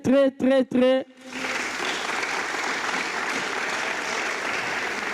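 Improv theatre audience at a Congolese improvisation evening bursting into sustained applause after three short sung or called-out voice phrases, the clapping crowd steady and fairly full for several seconds.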